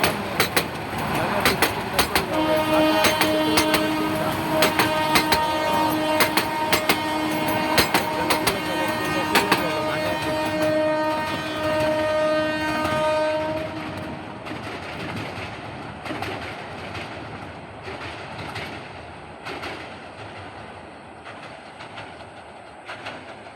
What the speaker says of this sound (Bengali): অনেক দ্রুত গতিতে ট্রেন যাচ্ছে।